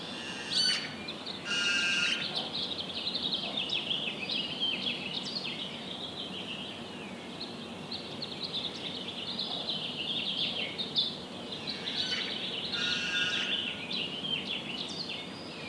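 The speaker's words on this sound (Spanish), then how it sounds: "Les voy a compartir un instantito de cómo se escuchaba por esta ventana las aves" Several birds chirp and sing outdoors at moderate distance, bright repeated calls layered over a soft steady background hum.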